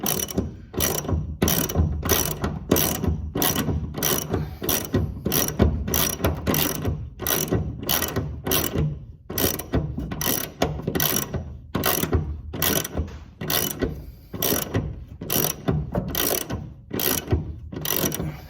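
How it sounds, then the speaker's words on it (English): Ratchet wrench cranking down hard on a rusty seat bolt of a 1995 Jeep Wrangler YJ, a steady run of loud, close, rapid ratcheting clicks in quick repeated strokes with no talking. "we're going to put this wrench on it, and we're going to wrench down on it pretty hard"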